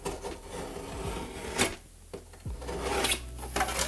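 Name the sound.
knife cutting bevels in plasterboard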